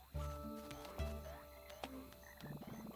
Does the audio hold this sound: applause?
no